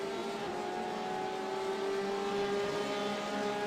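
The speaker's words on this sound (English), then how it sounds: "It sounds like he's like dumping the clutch as it comes up through the revs." Simulated race car engine in the iRacing game during a 24-hour race at Watkins Glen, holding a steady high drone with sharp harmonic tones and no voices, continuous and fairly close throughout.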